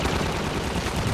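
Rapid gunfire from Half-Life 2 played on maximum difficulty, a dense, loud burst of shots filling the whole moment with no talk over it.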